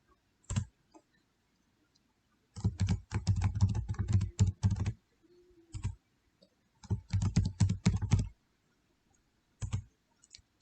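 Bursts of clicky keystrokes on a computer keyboard while entering a Python program, coming in three clusters of rapid taps with isolated single presses between and pauses of near silence, no voices.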